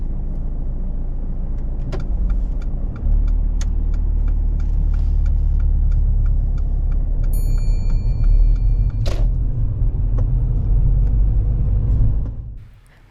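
A learner driver's car pulling away on a driving test, steady low engine rumble from inside the cabin with small clicks and a brief chime, fading out at the end.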